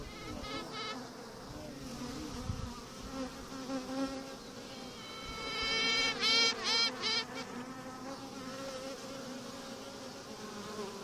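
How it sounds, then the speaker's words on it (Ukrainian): Piping of a young, just-emerged queen bee inside a beehive at an apiary, a run of rising, repeated tooting notes that stand out loudest in the middle, over a steady hum of worker bees. "Трубить матка."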